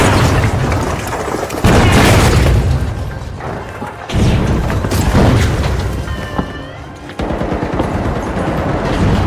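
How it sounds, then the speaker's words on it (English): A frag grenade blast in the arena shooter The Finals: loud booming explosions with rumbling tails, mixed with bursts of automatic gunfire, close and intense throughout. "Frag grenade out!"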